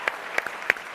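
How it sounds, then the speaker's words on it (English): A few distinct hand claps ring out from an audience at a pitch competition honoring contestants and judges, sparse and individual against a quiet room. "Let's give all the contestants and our judges a round of applause"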